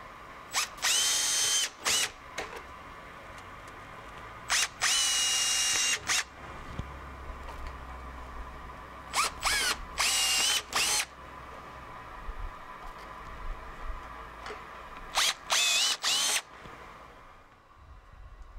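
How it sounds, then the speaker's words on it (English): A power drill with a 3/16-inch bit bores holes through the corners of a rain barrel lid, heard as several loud, separate bursts of high whirring, each a second or so long, with quieter handling noise in the gaps. "Using a 3/16-inch drill bit and your screen as a guide, drill a hole in each corner"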